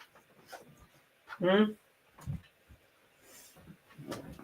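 A dog at a house whimpers with one high, rising whine in the middle, set among soft, breathy panting and faint scuffs in a quiet room.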